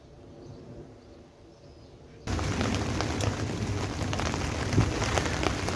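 Rain falling on a Saturday morning at an allotment, starting as a quiet background and then cutting to a loud, steady patter of drops hitting nearby surfaces, with no speech.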